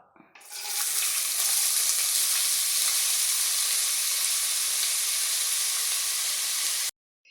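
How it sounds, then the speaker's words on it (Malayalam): Sliced onions hit hot coconut oil with a sudden, loud sizzle that holds steady and close for several seconds before cutting off abruptly, while cooking for a roasted-coconut mutton curry. "അരിഞ്ഞ് വെച്ച സബോള ഇട്ട് കൊടുക്കാം"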